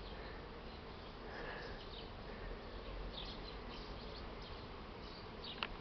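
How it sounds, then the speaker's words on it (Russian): Buckfast honey bees flying around an apiary on a warm spring day, a dense steady buzzing swarm filling the air continuously, close and even, with no talk. "уже и бакфасты облетелись, покуда я ходил, говорил, за 20 минут"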